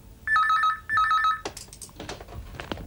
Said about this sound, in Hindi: विक्की फोन है।